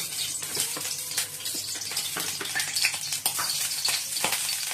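Onions and chillies fry in a pan while dal is tempered, a busy crackling sizzle with wet spattering and occasional stirring knocks running steadily throughout.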